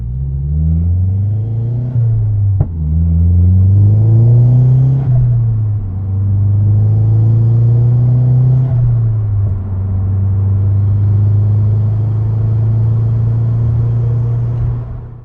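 Gen 2 Mazdaspeed3 fitted with a COBB catback exhaust, heard from inside the cabin pulling away from a dead stop: a loud, deep exhaust drone rising through the revs with gear changes, steady and close, no talking.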